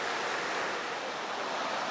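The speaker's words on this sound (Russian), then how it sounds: "А море штормит сегодня." Stormy sea waves make a constant broadband roar of surf, loud and unbroken, heard on their own with no voices.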